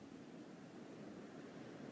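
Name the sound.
ocean waves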